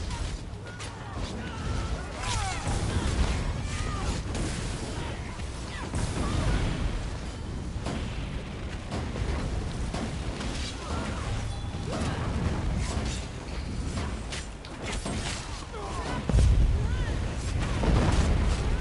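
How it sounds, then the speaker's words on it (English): A meteor spell in Elder Scrolls Online detonates amid combat, heavy booming impacts and rumbling blasts layered over clattering battle noise and bursts of game sounds, with talking in the mix. "So we got a 47k meteor."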